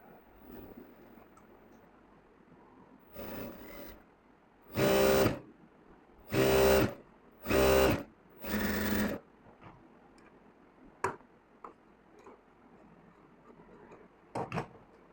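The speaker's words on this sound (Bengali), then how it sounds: "আরেকটা সেলাই দিতে হবে বন্ধুগণ।" A sewing machine stitching seams on men's trousers runs in several short loud bursts of roughly a second each, separated by pauses, followed by faint scattered clicks and handling sounds.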